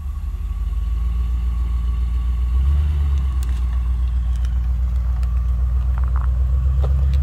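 A Mercedes 560 SL drives with a loud, steady low engine rumble and constant road drone, the tone rising slightly partway through.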